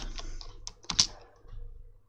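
Computer keyboard keys tapped while entering a terminal command on a Zorin 15 and Windows 10 dual-boot PC, a brief run of close, crisp clicks with a couple of louder strokes near the middle.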